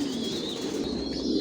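Imported pigeons in a loft give a continuous, even murmur of low cooing, close and moderately loud, with no one speaking.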